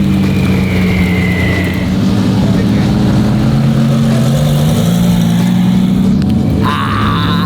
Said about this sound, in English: we're gonna send Ryan down the track and make a shakedown pass